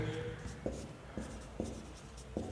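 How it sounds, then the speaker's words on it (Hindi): Marker or chalk strokes on a board during a Hindi physics lesson on ray diagrams for spherical mirrors, heard as repeated short scratchy writing bursts in a steady rhythm, close and moderately loud with a faint room background. "तो यहाँ पर हम लोग लिखेंगे"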